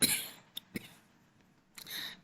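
A short burst of coughing at the start, followed by a couple of faint clicks, then another rough, breathy cough near the end.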